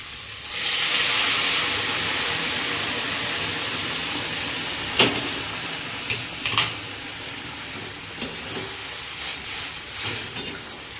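Hot water is poured into a frying vegetable curry in a home kitchen, and a sudden loud hiss and sizzle bursts up. It fades into softer bubbling with a few clinks of a spoon or pan, and no speech.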